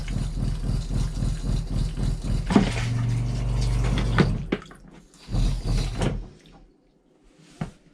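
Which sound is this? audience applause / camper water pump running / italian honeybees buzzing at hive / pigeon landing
camper water pump running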